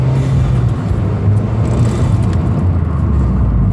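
A Mitsubishi Evo X fitted with a Cobb high flow filter pulls hard in first gear, a loud, close, continuous engine roar with turbo whoosh rising steadily throughout.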